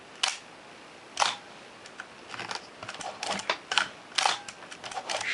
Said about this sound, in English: Shutter works well.